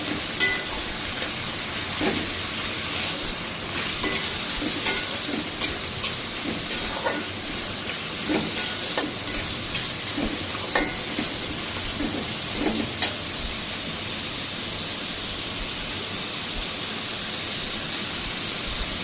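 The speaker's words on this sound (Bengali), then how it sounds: "কড়াইয়ে তেল দিয়ে পেঁয়াজ, কাঁচামরিচ, রসুন দিয়ে ভালোভাবে নেড়ে নিতে হবে।" Onion, green chili and garlic fry in oil in a wok with a loud, hissing sizzle, punctuated by repeated clinks and scrapes of a spatula stirring throughout.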